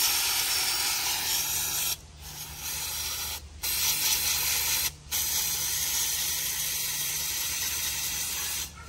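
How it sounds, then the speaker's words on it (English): Brake cleaner hisses from an aerosol can onto a trailer hub in long sustained bursts, with three brief pauses between sprays, loud and close, no talking. "So I'm gonna take this brake cleaner and clean this thing off."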